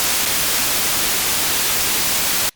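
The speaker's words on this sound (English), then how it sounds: "all we need is just a white noise wave shape there" Steady synthesized white noise from an FL Studio 3OSC oscillator, a constant full-band hiss held at even loudness for about two and a half seconds before cutting off abruptly to silence.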